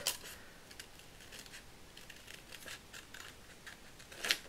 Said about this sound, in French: donc là on va venir couper. Tout autour